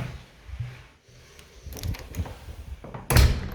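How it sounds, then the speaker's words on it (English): An interior door in a house swings shut with a firm thud near the end, preceded by faint handling and shuffling sounds. "Door closes fine"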